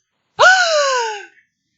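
A class gasping in awe, heard as one loud, close, drawn-out "ooh" that slides down in pitch and fades after about a second, alone against silence.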